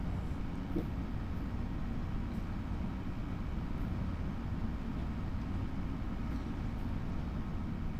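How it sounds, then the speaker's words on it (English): An old tractor in Farming Simulator 25 drives over bumpy ground, its engine giving a steady, dense low rumble with faint knocks and rattles, constant in level and without talk. "Bumpy old tractor."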